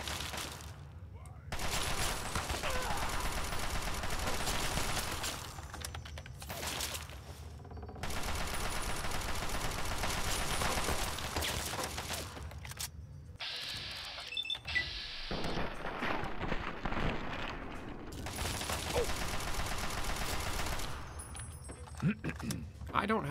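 Dense, sustained bursts of rapid gunfire from Fallout: New Vegas fill long stretches, loud and continuous with brief pauses between volleys and a voice talking over the shooting.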